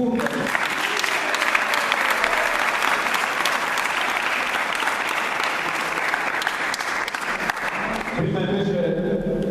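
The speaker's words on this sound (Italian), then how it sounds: "facciamo un altro applauso" A hall crowd gives dense, sustained applause for the coach at the Virtus Fondi team presentation; the clapping stays loud and steady for about eight seconds, then stops as a voice begins speaking.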